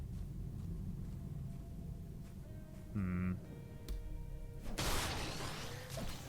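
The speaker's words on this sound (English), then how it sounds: "that was my lightning strike, and I totally messed it up" A lightning strike attack in the hack-and-slash shooter VOIN cracks out as a sudden loud, broad burst near the end, following a brief tonal buzz over a low rumbling game background.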